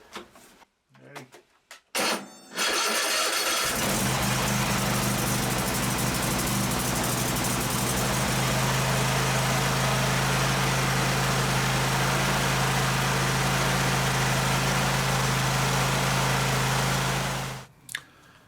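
A cold car engine with the choke pulled out cranks and catches on power from a Grepro J1000 lithium jump starter, then settles into a loud, steady idle that runs for about fifteen seconds before cutting off.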